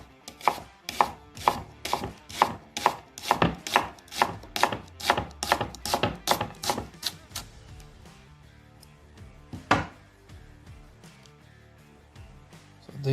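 Rapid, evenly spaced knife strokes chop through onions on a cutting board, about twenty crisp taps in quick succession that slow and thin out after the first eight seconds, with one more firm chop near the end; close and clear, no talk.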